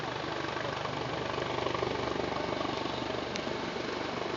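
A state patrol helicopter flies overhead during a flood, its rotor making a steady, loud, continuous thudding roar that fills the whole stretch without talk.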